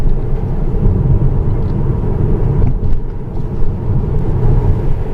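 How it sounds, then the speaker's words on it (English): Tyres on a Tesla roll over the road with a steady low rumble heard from inside the car, constant and fairly loud, with no engine note. "sound of the tyres more than anything"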